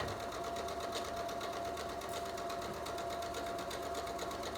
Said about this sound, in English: Let's get sewing.